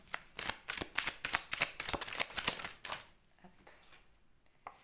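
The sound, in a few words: drawing a card from a tarot deck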